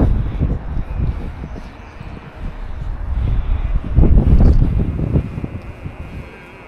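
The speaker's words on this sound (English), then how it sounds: "It's windy though. Very windy." Strong wind blowing outdoors in Bratislava, a continuous gusty roar buffeting the microphone and swelling louder midway, with brief talk mixed in.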